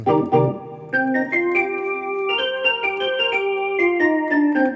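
Bright percussive organ tones from a Korg X5 keyboard pick out a melody over low chords, each note struck crisply, steady and instrumental.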